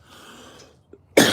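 One sharp, close cough bursts out loud and abrupt at the end, after a quiet stretch of faint breathy noise.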